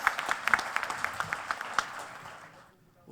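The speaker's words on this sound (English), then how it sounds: "Can we have a huge round of applause for them?" Applause from an audience at a corporate anniversary event greets a speaker coming on stage, a short burst of distinct claps that thins out and fades to near silence within three seconds.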